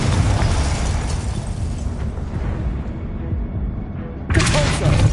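A Confringo explosion spell bursts in the video game Hogwarts Legacy, a loud booming blast rolling out with a low rumble that fades, then a fresh burst near the end, under a speaking voice.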